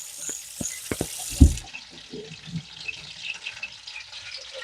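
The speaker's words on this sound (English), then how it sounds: "I'm just gonna wash my hand here" Kitchen tap runs briefly as a hand is washed while oil heats for frying chicken: a close rushing stream with a few knocks and clunks, then it cuts off into quiet room noise.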